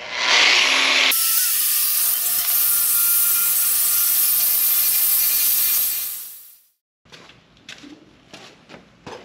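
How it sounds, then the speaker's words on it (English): A flap wheel grinds rust off the inner wheelhouse flange of a Firebird. A short whir spins up into a loud, harsh, steady hiss for about five seconds, winds down, and is followed by scattered clicks and handling noises. "I also want to hit the flange area here of the inner structure support with the flap wheel"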